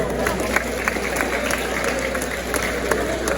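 Pageant audience applauding steadily, a dense wash of clapping with scattered cheers from a large crowd, loud and continuous throughout.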